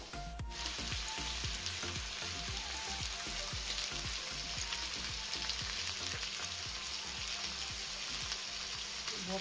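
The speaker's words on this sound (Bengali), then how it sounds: "এইবারে সবজিগুলোকে একে একে নুন হলুদ দিয়ে ভেজে নিলাম।" Vegetables frying one by one with salt and turmeric for suji pulao, a dense, steady sizzle filling the whole stretch with rapid crackling pops, close and fairly loud, no voices.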